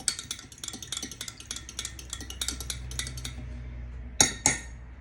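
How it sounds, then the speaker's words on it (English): A fork stirs sugar and yeast in a bowl, a rapid run of close metallic clinks and scrapes against the bowl, ending in two louder taps. "Give it a good old stir."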